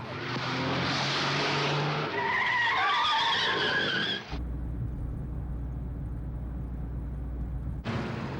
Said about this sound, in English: the din of police sirens and screech of tires was greater than usual on the streets of New York City